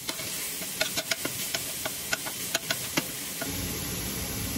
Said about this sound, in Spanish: Y aquí voy a agregar la carne.